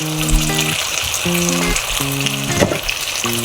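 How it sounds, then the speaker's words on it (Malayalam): Ground masala for paneer butter masala hits a hot pan with a steady, close sizzle and frying crackle, under soft background music. "നമ്മൾ അരച്ച് വെച്ച മസാല അങ്ങോട്ട് ഒഴിച്ച് കൊടുക്കാം"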